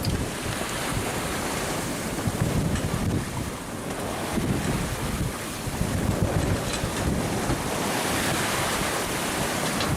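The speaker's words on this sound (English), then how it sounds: "These are crashing waves, 150 miles from land." Storm waves crash around a sailboat crossing the Gulf of Mexico far from land, a continuous roar of surf and wind buffeting the microphone, loud and unbroken with no voices.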